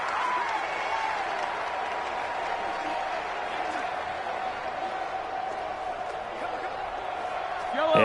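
Home crowd noise from a football video game on PS4 holds as a steady, loud roar throughout, with a commentator talking over it and a brief louder swell at the end.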